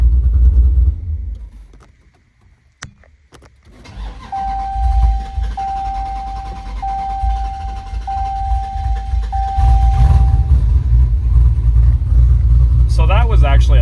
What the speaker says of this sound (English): It started up way better on the second crank